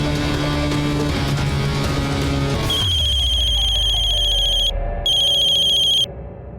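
A mobile phone rings for an incoming call: a bright electronic ringtone enters partway through after a rumbling passage, sustained in steady tones with a brief pause before stopping near the end, no voices over it.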